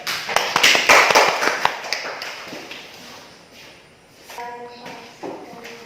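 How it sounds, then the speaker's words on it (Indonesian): A classroom of students claps for a classmate, a burst of scattered handclaps strongest at the start and fading out over a few seconds, with a faint tone and light shuffling after. "Udah, tepuk tangan untuk si Fanda ya."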